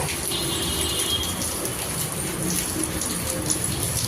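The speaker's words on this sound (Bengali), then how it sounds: "উপর থেকে জল পড়ছে" Water falling from above outside a tall building makes a continuous, fairly loud rushing hiss like heavy rain, steady with no pauses.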